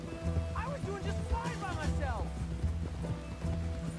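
Horse hooves clip-clopping at a quick pace under steady music and game noise, with a voice speaking over it and a brief whinny.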